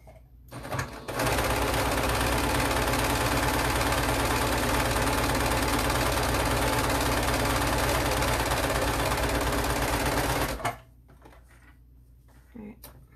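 A sewing machine stitches the rounded nose curve of a face mask lining, running steadily and loudly for about ten seconds before stopping, with quiet sounds after.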